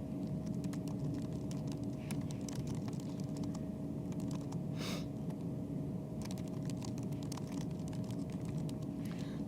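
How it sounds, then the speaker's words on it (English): Steady, rapid typing on a computer keyboard while someone enters a document title, with soft, closely spaced key clicks over quiet room hum. Nobody speaks. "I'm going to type the title."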